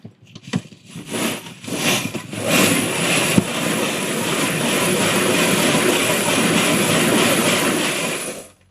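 A brass tumbler spins cartridge brass in rice media, building from a few bumps into a loud, steady whirring roar that holds close and constant before cutting off.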